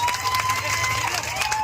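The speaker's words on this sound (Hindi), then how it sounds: "अपने दोस्तों के लिए आप तालियां जोर से बजाएंगे।" Audience clapping at a protest rally with a crowd of workers, a dense continuous wash of applause with crowd murmur and a steady low hum underneath.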